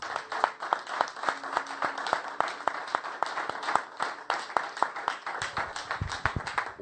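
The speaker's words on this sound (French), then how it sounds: "On peut vraiment l'acclamer, frères et sœurs." A church congregation clapping in steady rhythmic unison, sharp evenly spaced claps at roughly three per second, lively and sustained, with a few thumps near the end and no clear talking.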